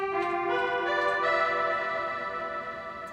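FL Studio's FM Voices 2 synth preset sounds a bright, reedy sustained chord that holds evenly for about three seconds with a slight shift partway, clear and solo with no voices.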